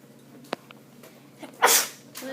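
One person sneezes once, sharp and close, following a small click and a brief breath in a quiet room.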